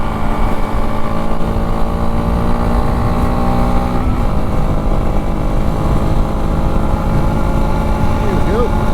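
Honda dual-sport motorcycle, a CRF300L or XR650L, riding on a forest trail while shifting up through the gears, a loud steady engine drone that stays close and continuous, with pitch shifts as it moves through each gear.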